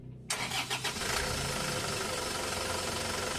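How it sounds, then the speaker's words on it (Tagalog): An Isuzu Traviz diesel engine cranks a few times, catches, and settles into a loud, steady rumbling idle close by. "pwede ko na ngayong start itong makina."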